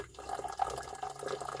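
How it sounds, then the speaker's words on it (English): Hot distilled water is poured into a gold waste solution during acid-based gold recovery, a faint, brief trickle and splash of liquid filling a container, with small bubbling drips and no talk. "Then we pour hot distilled water here."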